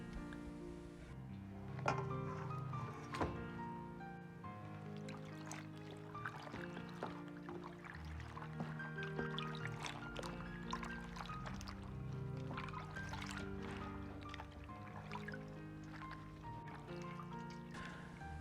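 Spinach being washed in water makes soft sloshing, splashing and trickling sounds, with gentle stirring and dripping throughout, close and fairly quiet.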